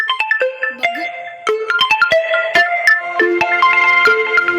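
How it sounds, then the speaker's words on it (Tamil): A loud, bright melodic phone ringtone from an incoming call plays alone, its quick chiming notes repeating close by. "எவன்டா நேரம் கட்ட நேரத்தில் ஃபோனை போடுறது?"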